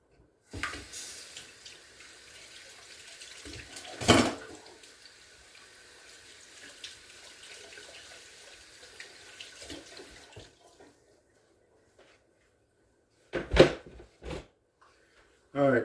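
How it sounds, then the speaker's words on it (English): Hands rinsed under a running kitchen tap during cooking, a steady close splash of water that stops partway through, followed by a few louder knocks and clatters. "Let me rinse this off my hand."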